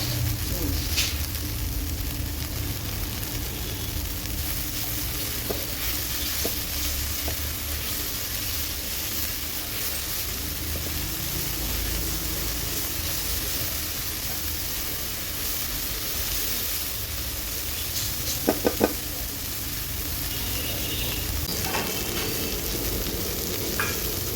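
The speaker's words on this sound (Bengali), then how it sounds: "দুধ ফুলটা খুব ভালো করে ভাজা ভাজা হয়ে গেছে" Cauliflower florets frying with potatoes in a pan, a steady dense sizzle running throughout with light stirring scrapes and a couple of brief clinks near the end.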